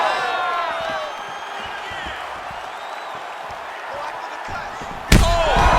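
UFC arena crowd during a Makhachev versus Gaethje bout, a low sustained murmur of fans that erupts into a sudden loud roar near the end as a strike finishes the fight.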